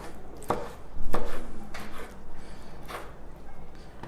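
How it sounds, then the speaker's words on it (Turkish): A knife chops eggplant into small pieces on a cutting board, with a few sharp, separate knocks near the start and then softer, scattered cuts under low room noise. "şimdi sıra geldi patlıcanlarımızı küçük küçük doğramaya"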